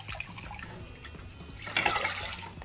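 White pickling vinegar poured into a brine for pickled eggs and sausage, a steady liquid splash that swells louder toward the end.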